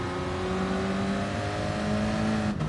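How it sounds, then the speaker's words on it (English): A Renault Clio Cup race car engine in a racing game holds steady high revs, a continuous loud drone with harmonic whine that stays level throughout, alone without talk. "You build the revs slightly in fifth before you actually get to the hill or the start of the hill section"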